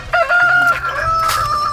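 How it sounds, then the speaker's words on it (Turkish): Roosters crow loudly and close by in a yard kept with many chickens, one drawn-out crow followed by another overlapping call. "Oğlum burada efsane erkeksi horozları var ve horozlardan ben bile korkuyorum yani."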